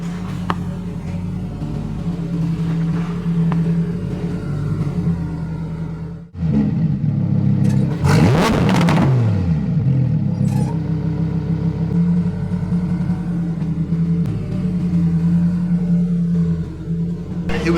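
A Lamborghini Huracan EVO fitted with a custom-built exhaust drives by on a cold day, its engine rumbling steadily, then rising to a loud, close roaring pass with a brief rev before settling back into a continuous drone.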